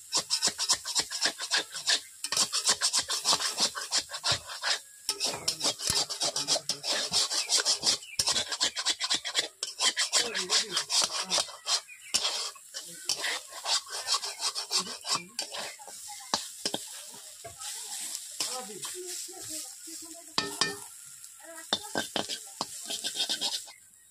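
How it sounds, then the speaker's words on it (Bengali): Gima greens fry in a kadai, with a continuous close scraping and rasping of a spatula stirring against the metal pan, quick and irregular, steady throughout with no voices. "বন্ধুরা দেখতেই পাচ্ছেন কেমনভাবে আমি বসিয়ে বসিয়ে ভাজছি"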